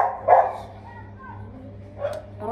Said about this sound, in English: I don't understand, like, why my dog barking so much.